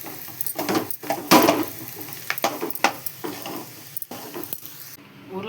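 Potatoes coated in masala are stirred in a hot pan, giving a busy sizzle of frying with irregular scraping and stirring strokes, close and fairly loud, with no voices.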